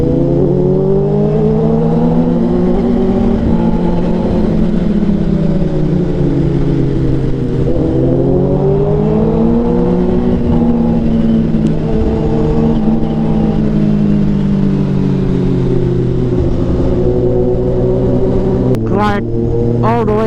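Kawasaki ZX6R and Suzuki GSX-R 1000R sport motorcycles running nearby, engines droning loudly and rising and falling in pitch as they rev, with a brief rattle near the end.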